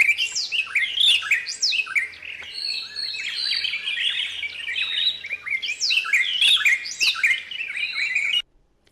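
Many wild birds chirp and call at once in Marsabit National Park, Kenya: overlapping bright tweets and trills, fairly close and steady for the whole span, with no talking, until they cut off abruptly near the end.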